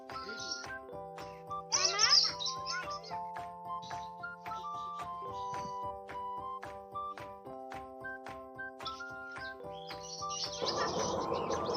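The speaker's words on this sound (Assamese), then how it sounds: "ইমান ধুনীয়াকৈ চৰাই-চিৰিকটি মাত দি আছে" Birds chirp and tweet in bursts at a zoo, with a few shrill calls, over a repeating chiming jingle in the background.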